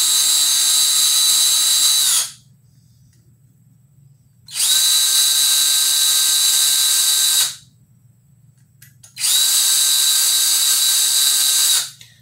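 A power drill runs in three sustained bursts of about two to three seconds each, separated by quiet pauses, while backing out the saddle screws on a relic Squier Infinity Stratocaster; the whine is steady, close and loud.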